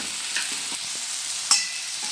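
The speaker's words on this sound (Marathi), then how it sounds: "एक हिरवी मिरची 2 मिनिटं चांगलं फ्राय करून घेऊ" A green chilli fries in a pan, a soft steady sizzle with a few light stirring taps and one sharper scrape partway through, close and without talk.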